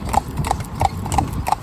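A calm horse's hooves clip-clop on a road up onto a trading estate, a steady near, regular beat of about two strikes per second with faint traffic rumble beneath.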